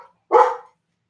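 A single loud, close dog bark, sharp and brief, with no other sound around it.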